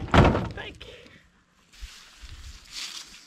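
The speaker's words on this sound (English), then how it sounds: "Oh no, he wants you to close the door." A door is pulled shut at a château, landing as one loud, close thud right at the start, followed by faint rustling, soft knocks and light movement.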